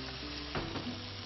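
Chopped native tomatoes frying in ghee in a pan, a soft continuous sizzle broken by a scraping stir or two midway, fairly quiet and close.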